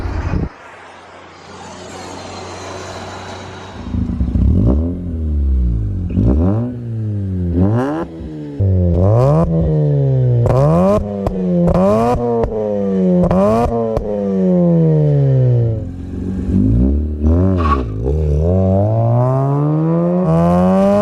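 Mazda RX8 rotary engine with a cheap eBay exhaust revving hard repeatedly, loud rising and falling rasping sweeps that climb to high revs, heard close up after a brief rumble of a passing jet overhead.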